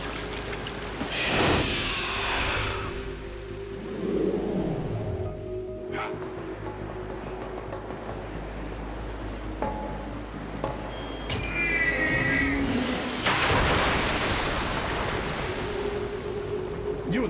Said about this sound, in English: It's running on water.